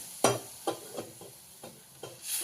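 Ground coconut milk poured into roasted masala in a pan for sodyacha rassa, giving a quiet sizzle with a few soft stirring knocks spaced through the moment.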